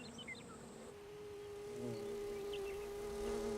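Insects buzzing near flowers, a steady droning hum with rising and falling tones, continuous and fairly close, no voices.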